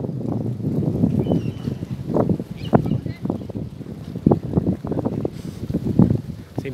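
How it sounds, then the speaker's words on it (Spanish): Gusty wind at the seaside in Barra de Cazones, Veracruz, buffets the microphone with low, rumbling bursts that rise and fall unevenly, with faint sounds in the background. "Empieza a correr un poquito el viento."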